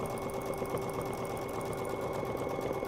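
A sewing machine doing free-motion quilting of swirl feather designs runs steadily and quite loudly for about three seconds, a continuous rapid mechanical stitching hum with no pauses and no talk.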